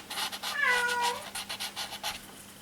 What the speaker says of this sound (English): That's my big cat.